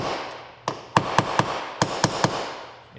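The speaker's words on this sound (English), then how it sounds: "Should I give it a little tap? Maybe I'll give it a little tap." Hammer tapping an air cleaner into place, about seven light, sharp knocks in an uneven rhythm, close and clear, without any talking.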